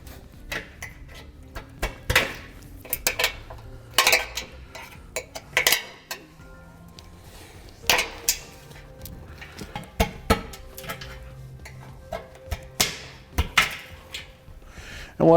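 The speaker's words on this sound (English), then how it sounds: "we're going to take these wire clips that are on here, and we're going to pry them up out of our bumper" Wire clips are pried out of a 2015 car bumper, producing repeated sharp metallic clicks, snaps and scrapes at close range, scattered irregularly throughout with quiet handling noise between.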